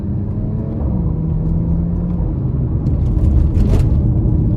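A 2015 Porsche Macan S with its 340 hp turbocharged V6 pulls hard from inside the cabin: a steady, loud low rumble and engine drone, with a brief rising whir toward the end.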